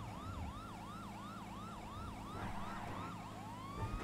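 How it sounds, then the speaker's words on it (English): A police car siren in the video game GTA V wails in a steady, rapid up-and-down cycle, loud and continuous over a low engine drone, with no talking. "Let's throw the siren down so people know I'm coming."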